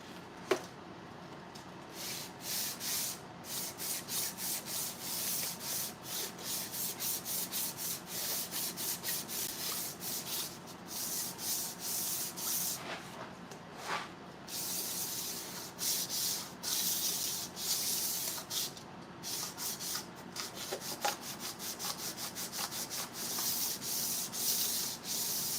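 Steady, continuous sanding of sandpaper wrapped on a flat block during auto body repair, a close, even rasping rub with rhythmic strokes running throughout, no voices.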